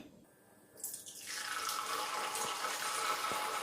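Dosa batter pours into the cups of a hot kuzhi paniyaram pan, a quiet start giving way to a steady, bright sizzling hiss that builds and holds close by, with no talking.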